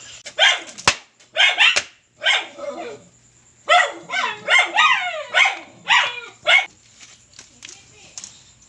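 A dog barks in short bursts, several sharp barks and yips grouped together, fairly close and loud, with a pause between clusters.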